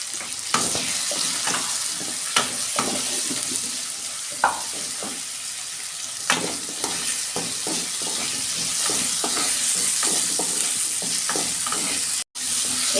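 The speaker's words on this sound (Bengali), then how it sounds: "এই যে আলুগুলো আমার একটু ভাজা ভাজা হয়ে গেছে" Potatoes frying in a pan for a ridge gourd and potato poppy-seed dish, a steady close sizzle broken by sharp scraping stirs every second or two, then a brief cut near the end.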